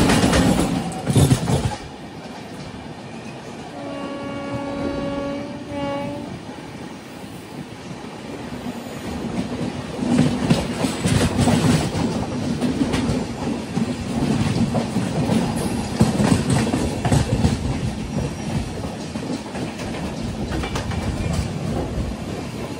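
Falaknuma Express rolling along double-line track: a steady, loud rumble of wheels and carriages with rhythmic clatter throughout, plus a brief tonal whine early on. No voices.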